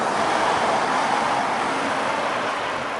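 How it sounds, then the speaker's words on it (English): Road traffic near Birtley Hall roars steadily, a close, loud broadband wash of passing vehicles with no voices over it. "forgive the traffic noise"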